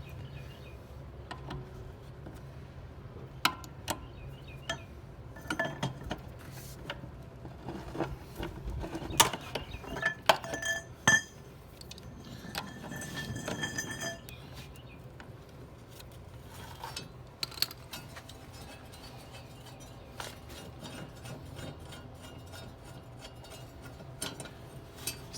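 Loosened bolts cranked out with a wrench, giving irregular faint ratcheting clicks and metallic creaks spread over a long, quiet stretch.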